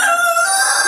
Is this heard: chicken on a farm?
yes